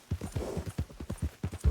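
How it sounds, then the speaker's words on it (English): Horse hooves clip-clopping in the video game Red Dead Redemption 2, a quick steady run of close, thudding hoof beats for under two seconds. "Beatrix, you were fun for a bit, and you were a nice big horse"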